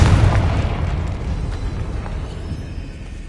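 A Confringo fire spell from Hogwarts Legacy, played on PS5, lands with one deep, loud boom that rumbles and slowly fades over a few seconds, with no voices.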